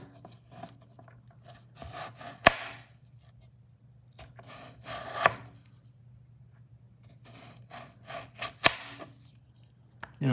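A knife cuts through a potato on a cutting board while making chorizo and potato tacos, giving sparse, faint, close-up slicing clicks and soft scraping with quiet gaps between them.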